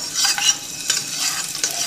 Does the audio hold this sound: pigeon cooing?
no